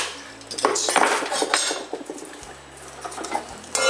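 A mature coconut's hard shell is struck with a tool around its middle to crack it open, giving several sharp, close clinking knocks spread over a few seconds with no voices.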